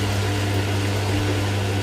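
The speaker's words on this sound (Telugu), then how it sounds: "ఇట్లా మిక్సీ పట్టేసుకోవాలి" A kitchen mixer grinder running steadily while grinding dosa batter, a loud constant motor hum with a low drone and whirring noise throughout, no voices.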